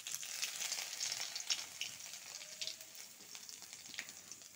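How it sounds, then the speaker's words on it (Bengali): Dried red chillies, bay leaves and ginger crackle and sizzle in hot oil, a soft, steady fry with scattered small pops and spits, fairly quiet and close, no voices. "শুকনো লঙ্কাটা লাল লাল হয়ে গেছে, তেজপাতা দিব 2টো, আর একটু আদা"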